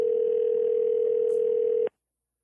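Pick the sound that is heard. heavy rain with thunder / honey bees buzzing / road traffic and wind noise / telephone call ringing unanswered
telephone call ringing unanswered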